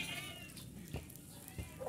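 A pet cat meows a couple of times indoors during a rainy-season household scene, its short cries rising over a low background murmur.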